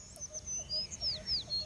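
Birds chirp and sing as a sound effect for a read-aloud children's story, with short high whistled calls repeating in quick succession, fairly faint and without talk.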